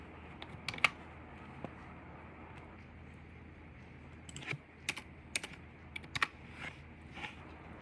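Quiet typing of code on a computer keyboard, sparse scattered keystrokes at first, then a busier run of clicks, close and soft over a faint steady background hum, no voices.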